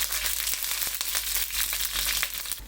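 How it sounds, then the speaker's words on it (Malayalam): Mustard seeds and dried red chillies sizzling in hot oil in a pan for avial, a steady close crackling hiss with sharp popping bursts scattered throughout, no talk. "ചൂടായ പാനിലേക്ക് നമുക്ക് കുറച്ച് എണ്ണ ഒഴിച്ചു കൊടുക്കാം. കുറച്ച് കടുക് ഇട്ട് കൊടുക്കാം."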